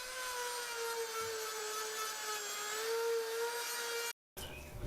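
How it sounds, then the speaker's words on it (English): A power sander bevels the edge of a wooden piece for a homemade deer feeder, making a steady, high droning whine that runs evenly and breaks off briefly near the end. "so as you guys can see, that sand job we were doing"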